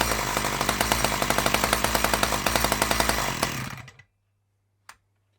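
A 1982 Dolmar 100 chainsaw with a faulty stop switch runs loud and close with a steady rattling two-stroke buzz, then dies off after about four seconds, leaving a low hum and one sharp click.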